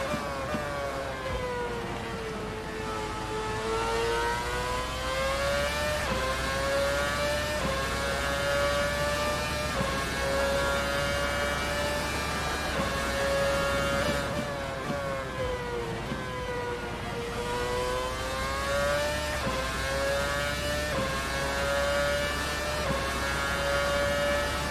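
A 2013 Formula 1 car engine screaming flat out around the Mugello circuit in a racing game, one continuous high-revving whine with rising and falling pitch through gear changes and corners, loud and steady with no talk.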